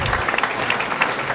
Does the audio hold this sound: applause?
yes